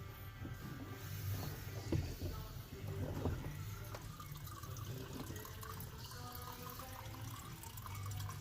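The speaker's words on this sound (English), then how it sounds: "just let it drain before you remove it." Fuel draining from a Nissan Juke fuel pump canister lifted out of the tank, a steady trickling, dripping liquid sound that stays faint and close throughout, with occasional small knocks.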